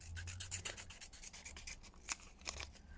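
Scissors snip through fabric while trimming an applique piece, a quiet run of rapid rubbing, crisp cuts with a few louder snips near the end, close and alone.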